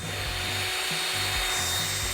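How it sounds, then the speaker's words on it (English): Power drill running continuously in a homemade DIY drill testing rig, a dense high whine with rhythmic lower pulses as it works, close and steady. "Drill's on."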